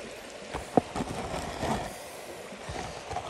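Steady water flowing and rushing during gold prospecting, a continuous broadband wash with a few small splashes and knocks, close by and moderately faint, with no talk.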